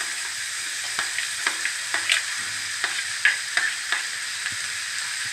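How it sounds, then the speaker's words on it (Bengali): Potato and pointed gourd pieces fry in a pan with a continuous gentle sizzle, broken by regular light scrapes and taps of a spatula stirring them, no talking. "এবার আমি সবটা নেড়ে নেব, হালকা করে একটু ভেজে নেব।"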